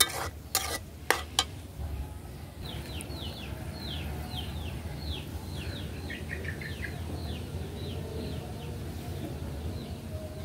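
Chopped onion and garlic frying together in a pan during village-style cooking, a continuous close sizzle with a few sharp utensil clanks at the start and birds chirping faintly in the background.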